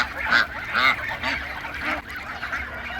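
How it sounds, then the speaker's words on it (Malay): Geese honk in repeated nasal calls at close range on a farm of about two acres, several bursts in quick succession over steady background noise. "Semua angsa kat sini."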